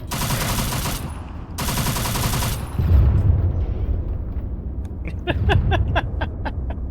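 Automatic weapon fire in the Arma 3 Vietnam-era mod, SOG, rattles in two sustained bursts, then gives way to scattered single shots and distant booms, loud and close against a rumbling battlefield background.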